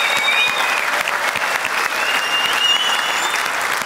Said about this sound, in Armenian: եկեք ծափարությունով փաստենք, որ Հայաստանից լավ տեղ չկա